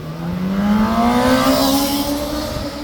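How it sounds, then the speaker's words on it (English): A motorbike engine revs up, its pitch climbing steadily over a few seconds, loud and close with no talking. "revving his bike to try and upset the horses"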